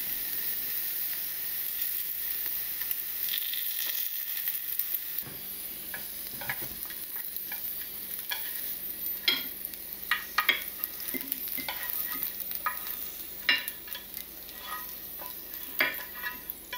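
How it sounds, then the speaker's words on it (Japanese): Sea bream frying skin-side down in a pan with a generous amount of oil until lightly browned, a steady close sizzle broken by scattered pops and crackles. "軽く焼き色がつくまで 火を入れていく。"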